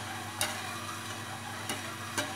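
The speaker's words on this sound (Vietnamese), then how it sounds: "các bạn cứ khuấy cho mình như thế này, liên tục như này nhá" Soy milk is stirred continuously in a pot over low heat, with a soft steady bubbling hiss and three brief scraping clicks of the utensil against the pot.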